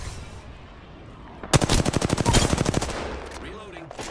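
A rapid burst of automatic gunfire rattles out in a video game, a loud fast string of shots lasting about a second and a half, with quieter background noise before and after.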